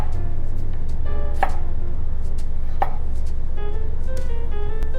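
Knife chopping through a tough vegetable stem on a cutting board, with several sharp, close knocks at irregular intervals over a steady background hum, no talking.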